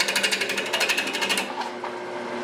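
Wood lathe hollowing a salt pig, with a steady rhythmic chatter of the gouge on the spinning blank for the first stretch, then a smoother, quieter cutting hum; close and fairly loud with no talk.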